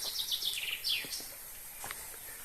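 Several bright chirping bird calls in quick succession beside a stream in a village near Gönen, Turkey, a few sweeping trills early on, then sparser chirps over a quiet outdoor background.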